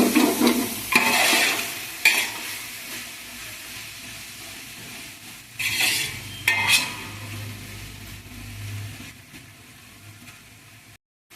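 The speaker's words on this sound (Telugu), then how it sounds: "ఇప్పుడంతా కలిపి బాగా వేగాలి." Coriander leaves being stirred and fried in a pot for a large batch of rice pulao: a few loud scraping stirs against the metal, then a softer continuous sizzle, close and with no voices.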